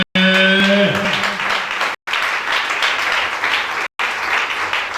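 A church congregation applauding during a worship service, sustained loud dense clapping close by with brief cuts, a held musical tone fading at the start.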